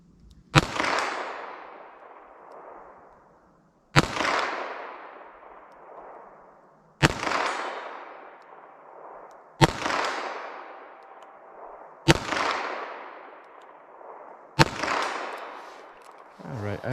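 Six sharp shots from a .22 Magnum handgun fired double action ring out outdoors at steady intervals of about two to three seconds, each a loud crack followed by a long echoing decay.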